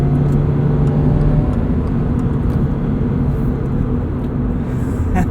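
A 2022 Subaru BRZ on Bridgestone Potenza RE-71RS tires drives steadily while the tires warm up, giving a continuous engine drone and road rumble from inside the car.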